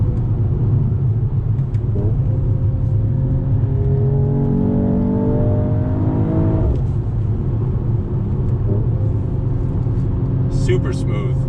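A 2020 Mercedes-AMG E 53 engine pulls hard while cornering, its steady rumbling drone rising in pitch through the gears under continuous close talk from the driver inside the cabin.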